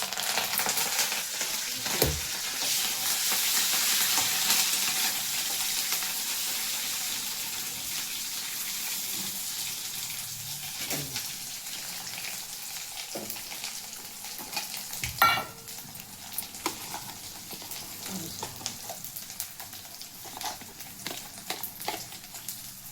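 Oil sizzles and crackles steadily as tempering spices and curry leaves fry for mint chutney, with occasional stirring clinks and a few sharp taps against the pan.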